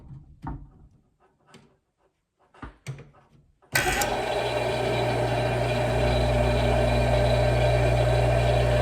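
A vintage barn-find pressure washer's electric motor kicks on abruptly after a few faint handling knocks, then runs steadily and loudly with a smooth, constant hum.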